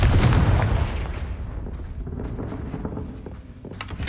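Bombarda and Confringo spells in Hogwarts Legacy on PS4 unleash a heavy, booming explosion up front that rolls off into a long crackling, rumbling tail with scattered smaller pops.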